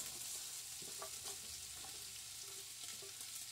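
Onions fry with browning meat in a pan for a pot of greens, giving a soft, continuous crackling sizzle with a few light stirring scrapes, quiet and steady with no talking.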